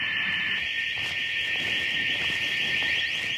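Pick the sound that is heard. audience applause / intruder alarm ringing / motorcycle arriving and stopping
intruder alarm ringing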